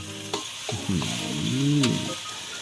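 King oyster mushrooms and marinated pork are stir-fried in a hot pan with sizzling and several scraping stirs of the spatula, close and fairly quiet, without talk.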